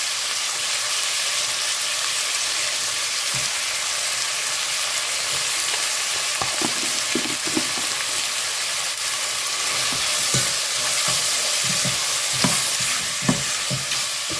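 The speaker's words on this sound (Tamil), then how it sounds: "இது கூடவே கொஞ்சம் இஞ்சி பூண்டு பேஸ்ட் போட்டோம்" Ginger garlic paste fries in a pan with mushrooms, a steady sizzling hiss running throughout with occasional soft scrapes and taps from stirring, close and without talk.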